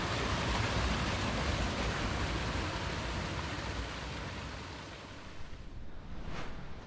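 Water from a small cascade on the Cherpassonne rushes steadily as a dense, loud roar, fading slightly toward the end.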